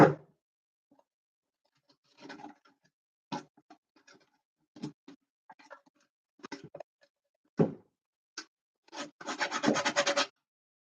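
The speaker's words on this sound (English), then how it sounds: "I'm not sure if the sandpaper is making it better or worse" Sandpaper rubs on wood while a laptop stand is being built, heard as quiet, irregular scraping strokes separated by pauses and ending in a quicker run of rasping passes, with no voices.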